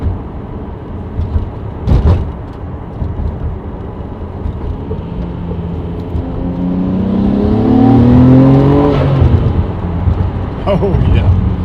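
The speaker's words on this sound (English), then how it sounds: "The turbo noises do come in sooner with the downpipes" An R33 Skyline V-Spec with HKS Super Turbo mufflers and HKS downpipes revs its turbo engine up and down. The engine note rises and swells toward the middle before settling, and voices speak over it.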